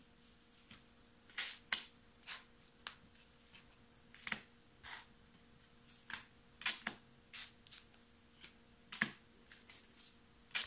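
Oracle cards drawn from a deck, with soft scattered slaps and flicks of card stock coming in irregular quick taps over a quiet room.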